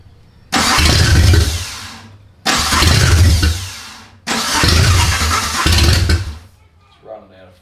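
A 1.3L Suzuki Sierra engine, starving of fuel, cranks and catches three times in loud close bursts, each dying away after a second or two, with a voice heard faintly at the end.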